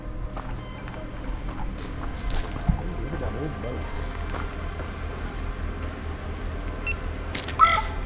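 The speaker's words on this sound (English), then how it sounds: "Raven. You hear how loud they are?" Ravens call along a forest nature trail at Icy Strait Point, their harsh cries rising over wind noise and people talking nearby, with the clearest call near the end.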